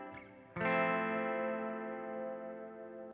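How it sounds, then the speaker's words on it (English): Clean electric guitar lead through an effects chain for a band's song intro, a soft pluck then a sustained bright chord ringing steadily with shimmering chorus-like texture, no voices. "Then we have this regular guitar, clean guitar lead that we had written for this intro."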